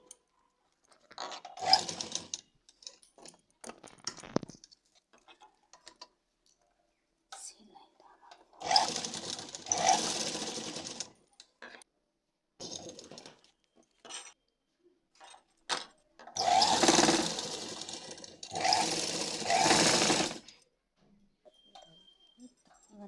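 A sewing machine stitches elastic around the edges of a simple palazzo pant in several short runs of a few seconds each, with someone talking in the pauses between them.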